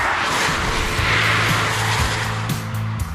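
A Tesla Roadster electric sports car driving fast, giving a loud steady whine and road rush with a faint rising tone, close and continuous throughout.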